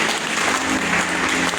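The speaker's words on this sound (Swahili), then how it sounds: "Tuwapigie makofi" A loud, dense round of audience applause fills the whole moment, steady and close with no gaps.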